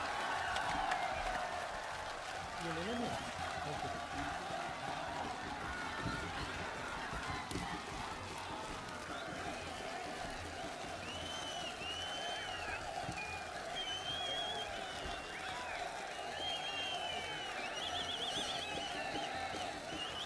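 A large crowd at a public rally for Rahul Gandhi in Anantnag, Jammu and Kashmir, applauding steadily and dense throughout, with cheers and faint shouts over the sustained clapping.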